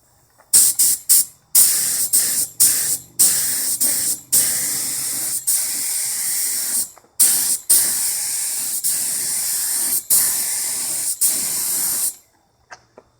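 An aerosol can sprays clear coat onto restored car headlights in a series of loud, hissing bursts, roughly a dozen passes separated by short pauses, close to the microphone and without speech.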